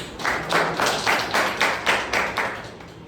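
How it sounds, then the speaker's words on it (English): A small audience at a Toastmasters club meeting applauds, a steady run of clapping with pulsing bursts of claps for about three seconds, fairly close and without talk over it. "Give a round of applause."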